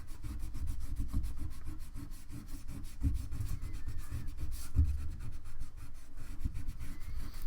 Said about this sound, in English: take my eraser